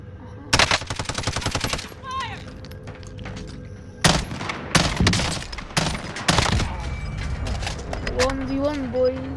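Bursts of automatic gunfire in the Warzone battle-royale video game, loud and close, coming in several rapid volleys with short pauses, mixed with game effects and a player's voice talking over it.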